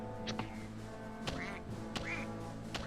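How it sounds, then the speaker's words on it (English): A duck in the video game Mario + Rabbids Kingdom Battle quacks several times at an uneven pace, each quack clear and nasal over a sustained layer of game music. "some Rabbids playing with a duck"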